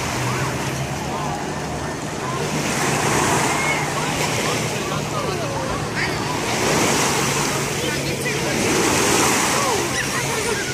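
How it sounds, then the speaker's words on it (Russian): Waves wash onto the beach at Rafailovici, a continuous surf roar that swells and eases in slow surges, mixed with gusting wind buffeting the microphone. "Такой вот пляж."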